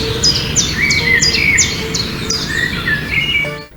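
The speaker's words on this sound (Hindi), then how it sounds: "परिंदों की चहचहाट" Birds at Hiran Minar, an old stone monument among green trees and water, give loud, close, repeated chirps and tweets in quick succession over soft background ambience.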